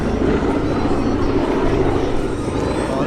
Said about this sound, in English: Oh, look at that Lancaster bomber. Amazing looking machine, man.